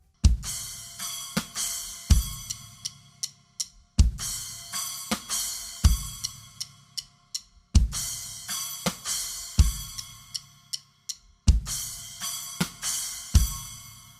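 A basic drum groove played on a kit with splash cymbals, repeating in short bars with sharp kick and snare hits and bright cymbal crashes, close and loud with no talking.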